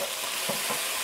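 Carrots added to a pan of frying vegetables for a noodle dish, with a dense, steady sizzle up close and a couple of soft stirring scrapes underneath.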